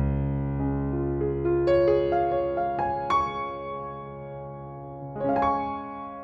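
The Giant Kontakt piano plugin on its initial program plays a slow sequence of rich, sustained notes stepping upward one after another, with a final chord struck near the end, close and clear with no talk.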